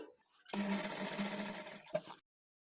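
A sewing machine stitches a lehenga frill in one continuous whirring run of about a second and a half, close and steady, then stops abruptly.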